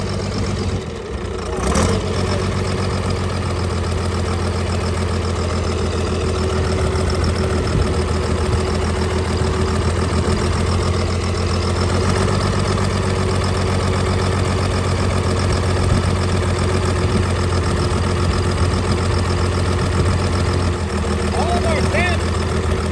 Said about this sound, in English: Need to idle her up a little bit.